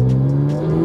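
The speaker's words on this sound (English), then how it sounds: "This car is probably one of the best sounding cars in history, but the start sounds worse than the Evo." A Porsche GT4 RS engine catches and settles into a steady, loud close-up idle drone with a strong low hum, continuous and unaccompanied by talk.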